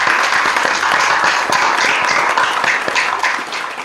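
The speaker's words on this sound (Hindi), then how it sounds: "यहाँ से लोग बैठे, एक बार ताली बजाइएगा।" A seated audience at a Holi kavi sammelan bursts into dense, sustained applause, loud and continuous throughout with sharp individual claps standing out and no voices.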